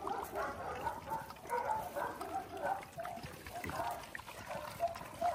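Several puppies lap and slurp milk close by, a soft wet trickling and smacking that keeps on steadily, with faint voices in the background.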